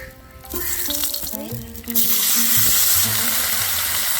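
Chillies are dropped into hot oil in a pan. After a brief quieter moment with faint voice-like tones, a bright crackling sizzle surges up at close range and holds steady.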